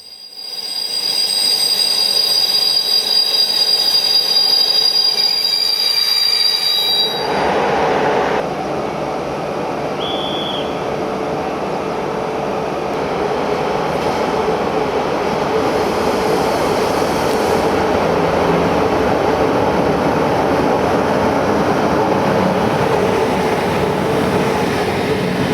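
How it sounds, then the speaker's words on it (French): A Ploče-Sarajevo-Zagreb passenger train passes on a single-track Balkan line, arriving with a rising rumble, then rolling and clattering steadily close by with some wheel squeal for over twenty seconds. "Nous attendons maintenant le croisement avec le train Ploče-Sarajevo-Zagreb."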